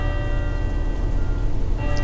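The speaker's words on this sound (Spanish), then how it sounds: "Está tocando las campanas lo que viene a ser la iglesia." Church bells tolling in the Fernbus Simulator bus game, a steady resonant ringing with sustained tones layered over a constant low rumble of the bus engine.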